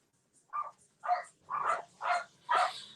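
Dogs barking outdoors at some distance: five sharp, evenly spaced barks, each a little stronger than the last, against an otherwise quiet background.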